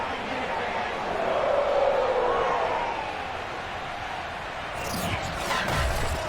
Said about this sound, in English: The enthusiasm of the Cincinnati crowd in full effect a moment ago